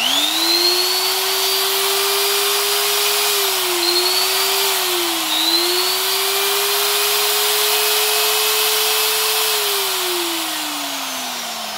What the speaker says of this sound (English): 400 watt quarter inch collet or die grinder